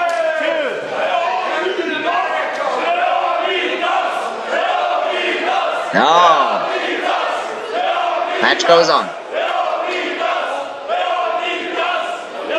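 A wrestling crowd at an SWE King of Switzerland singles match between Matt Cross and Chris Andrews roars steadily throughout, loud and sustained with chanting swells, while a commentator talks over it.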